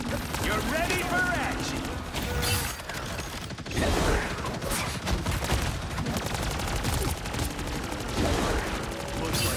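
Rapid gunfire and weapon mechanisms from the video game Marvel Rivals, dense bursts running throughout with game effects and voice lines layered over it.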